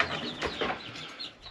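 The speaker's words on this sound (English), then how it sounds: "Chickens are fine." Chickens cluck softly in a winter barn, a few short faint clucks close by over quiet background noise.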